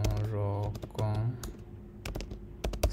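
Keys clack on a MacBook keyboard in short, quick bursts of close, crisp taps, with a voice briefly heard near the start.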